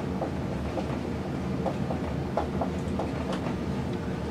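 A train runs on rails with a steady loud rumble and repeated rhythmic clacks of wheels over track joints. The sound is close and continuous, and no voices are heard.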